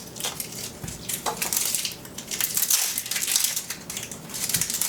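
Dry papery skin is peeled from a halved onion close up, making crisp crackling and crunching rustles in irregular bursts with no talking.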